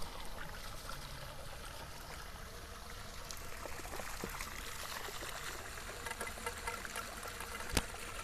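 Water pours from homemade two-nozzle venturi aerator nozzles in a continuous soft splashing trickle, steady and fairly faint, with one sharp click near the end.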